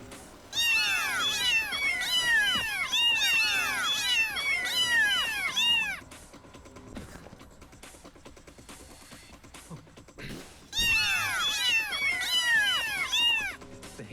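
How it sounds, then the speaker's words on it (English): A cat in a video game meows in loud, rapid, repeated bursts, goes quiet for several seconds amid faint game sounds, then starts meowing again just as insistently. "Cat!"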